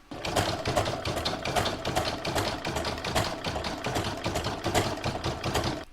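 A home embroidery machine stitches a red satin stitch on an appliqué Santa design, its needle hammering in a fast, steady mechanical rhythm close up and without pause.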